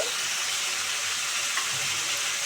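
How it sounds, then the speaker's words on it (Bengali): Carrots and cabbage fry in a pan, making a loud, dense, continuous sizzle close up without a break, with no voices over it. "গাজর আমি ফ্রাই করে রাখছি বাঁধাকপি দিয়ে। এগুলো একটু ফ্রাই করে নেব।"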